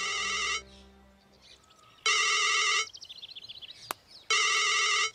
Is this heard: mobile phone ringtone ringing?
yes